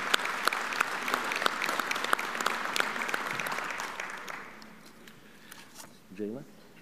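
Audience applause at a 100 Black Men annual conference, a sustained clatter of many clapping hands that fades out after a few seconds, with a brief voice near the end.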